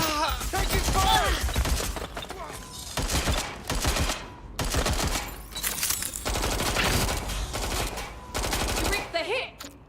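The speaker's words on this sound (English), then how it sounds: "Taking fire!" Heavy machine-gun fire in Watch Dogs: Legion, long loud bursts of rapid shots broken by brief gaps, with shouted voices cutting in over the shooting.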